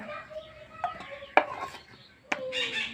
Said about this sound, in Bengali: এই যে পেঁয়াজগুলো দিয়ে দিলাম